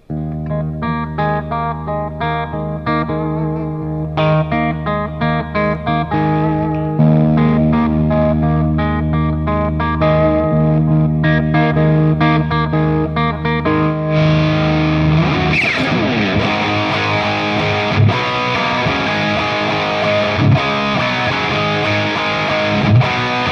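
An electric guitar played through a Genz Benz El Diablo 100 amp with heavy reverb and distortion gives sustained, saturated chords and notes, loud and steady, ending in a ringing, reverberant wash of single notes.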